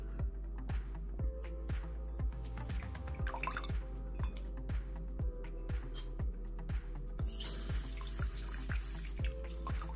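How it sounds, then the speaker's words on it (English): Water flushing through a Pelikan demonstrator fountain pen nib section falls in steady, evenly spaced drips, roughly two per second, quiet and close. "flush it with water to make sure there's no pen flush residue"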